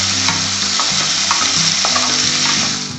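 Tomatoes, onions, cashews and salt fry in a pan while being stirred, a loud continuous sizzle broken by scraping spoon strokes, with no voices.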